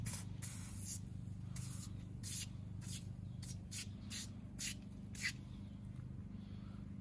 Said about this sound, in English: I'm gonna spray it, scrub it a little bit with a brush